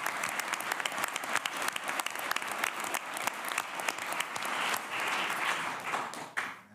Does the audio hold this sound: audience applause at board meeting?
yes